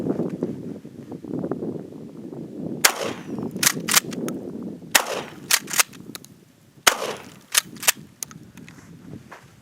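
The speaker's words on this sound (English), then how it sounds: "I'm going to be shooting right to left on all these clays right here." A Winchester Model 1300 Featherweight 12 gauge pump shotgun fires at clay targets outdoors, several sharp loud blasts spaced a second or so apart in small groups over light wind noise.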